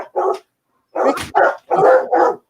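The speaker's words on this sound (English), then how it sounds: "can be a pain when they're barking" A dog barks close by in a quick burst of five or six loud barks, separated by short gaps of silence, with no talking heard.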